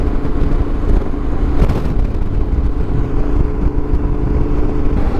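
A motorcycle on Route 66 runs at steady speed under engine braking, a continuous low engine drone mixed with rushing wind noise, close and fairly loud.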